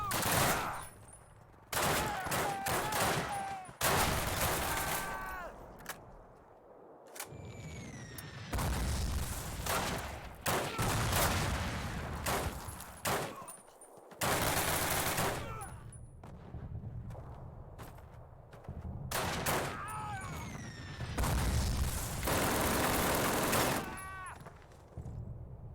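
A full-auto sniper rifle fires in bursts during a World War II Call of Duty match, loud, close rapid volleys broken by short pauses, with explosions and a voice speaking between them.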